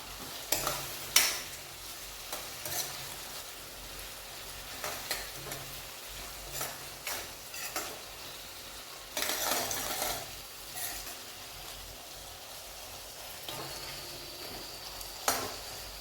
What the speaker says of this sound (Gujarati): આપણે તેમાં પલાળેલા કાજુ નાખીશું અને સારી રીતે ચમચાના મદદથી મિક્સ કરી દઈશું